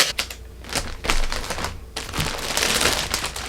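Packing tape pulled and pressed onto a shipping package, a burst of quick ripping, crinkling strokes with short pauses, close and fairly loud, no talk.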